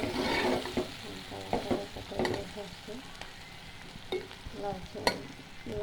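Bottle gourd and potato are stir-fried in oil, making a soft sizzle broken by repeated scraping and stirring strokes from a utensil at an uneven rhythm.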